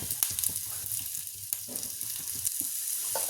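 Freshly added grated coconut sizzles in a hot pan, a continuous close crackling fry broken by a few sharp stirring clicks and scrapes, with no talking.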